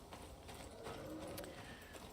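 Horse hooves clop in the survival video game Icarus, a faint, steady run of muffled hoofbeats under a low ambient wash of wind and environment.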